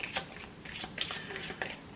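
Oracle cards being shuffled by hand for a card reading, a series of quick papery riffles and slides in close, soft bursts with no voice.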